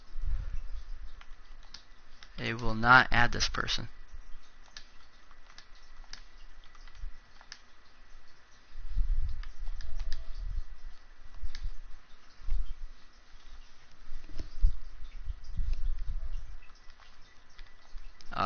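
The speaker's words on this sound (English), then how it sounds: "As I'm typing" Soft, sparse clicks of typing on a computer keyboard come in short scattered bursts at low volume, with a brief spoken phrase early on and faint background noise between the taps.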